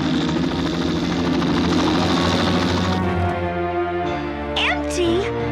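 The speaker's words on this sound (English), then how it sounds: "Helicopter?" A cartoon helicopter in an Inspector Gadget episode, a steady loud droning engine and rotor hum that shifts in tone partway through, with a brief whistling effect near the end.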